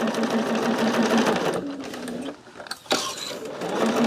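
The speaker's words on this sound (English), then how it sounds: "we're sewing everything at that 1/4 inch" A sewing machine stitches quilt pieces for a Christmas quilt with a fast, steady mechanical whir. It runs loud and close, pauses briefly with a few clicks, then starts stitching again.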